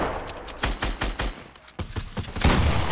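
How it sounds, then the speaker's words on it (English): Rapid bursts of gunfire in Fortnite Battle Royale, a loud volley of repeated shots in quick clusters with a heavier blast near the end. "Oh, we get shot from the south too."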